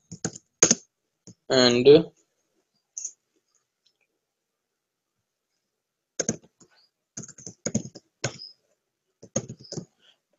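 Bursts of computer keyboard typing, brisk clusters of key clicks separated by pauses, close and fairly quiet, with a brief spoken word near the start.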